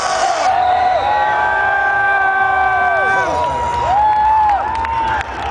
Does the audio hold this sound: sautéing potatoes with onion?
no